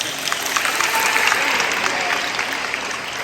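Audience members at a sports awards banquet applaud, a brief, steady burst of dense clapping filling the room at moderate loudness.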